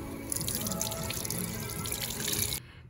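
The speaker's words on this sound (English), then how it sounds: "After your temperature is approved, you must wash your hands with soap and water." At a nail salon sink, hands are washed with soap and water under a running tap, a steady close splashing stream that cuts off abruptly near the end.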